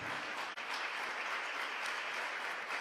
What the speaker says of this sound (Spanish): Póngase de pie y denle un aplauso al Señor Jesús.